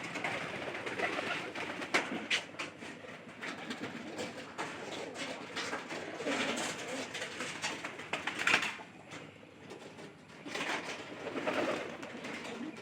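Domestic pigeons coo close by in a pen, soft rolling calls repeating in irregular bursts with brief pauses and small rustles between them, no voices present.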